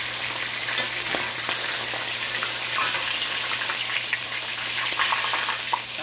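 Snapper and jack fish fry in hot oil in a cast iron pan for Jamaican escovitch fish, giving a steady, even sizzle and crackle that holds throughout at close range.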